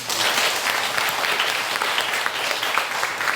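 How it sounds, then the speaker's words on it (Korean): Church congregation applauding together inside a sanctuary during a worship service, a dense, steady wash of clapping held at an even level from start to finish. "네, 박수 한번."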